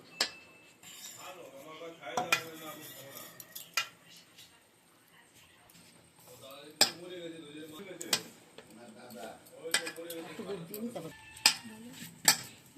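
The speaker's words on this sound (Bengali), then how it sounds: "এবার এটা আমি ভালো করে মিক্স করে নিচ্ছি" Clinking and scraping of a utensil against a bowl while dough is worked with milk and oil, irregular ticks and clinks close by under steady talking.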